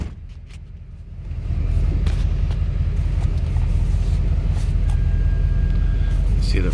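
A 2011 Chevrolet Silverado 2500HD with a 6.6L Duramax diesel and about 200K miles engaging four-high, a steady low diesel rumble that swells and holds close and loud after a quieter start.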